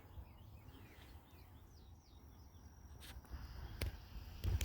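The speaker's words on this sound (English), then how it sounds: "Listen to the birds." Faint bird chirps and short whistled calls drift over a steady outdoor hush, with a few sharp clicks and light rustling near the end.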